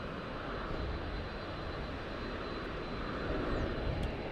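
Air France airliner engines roaring at DFW International Airport, a steady loud broadband jet rumble with a faint high whine, continuous throughout with no talk.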